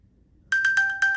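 An iPhone sounds its locate alert, triggered from an Apple Watch: after half a second of quiet, a loud, close series of bright repeating electronic chimes pulses in a steady rhythm.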